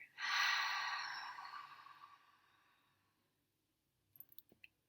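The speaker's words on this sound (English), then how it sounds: "And we just learned dragon breath." A single forceful exhale in a dragon-breath breathing exercise, a loud hissing rush of air that fades slowly over about three seconds, followed by a few faint clicks.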